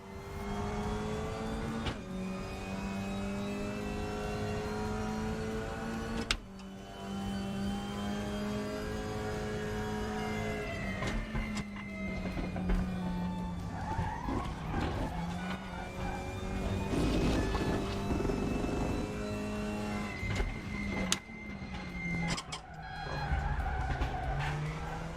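Race cars in RaceRoom whine at high revs around a circuit, engine pitch rising and dropping through repeated gear shifts and braking, with tire squeal and brief knocks scattered through a continuous, close, loud drive; no talking.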